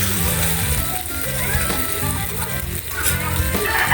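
Fried milkfish (bangus) slides into a hot pan, and a steady, dense sizzle of frying fills the space, with faint clinks and scraping from the cookware and no one talking.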